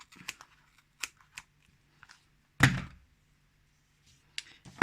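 Scissors snip through a piece of yarn while a tassel is being made, giving a few small close cuts and one louder crisp snap-like thunk in a quiet room.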